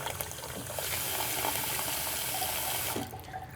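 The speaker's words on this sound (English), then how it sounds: "Change out the water, kind of like you would be rinsing rice maybe." Water runs steadily from a tap into a bowl where sausage casings are being rinsed, a continuous close splashing hiss that cuts off near the end.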